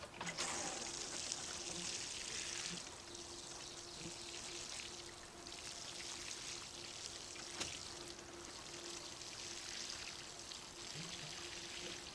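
Water pours and trickles steadily onto the ground of a vegetable garden for several seconds, a continuous splashing flow with a faint background hum.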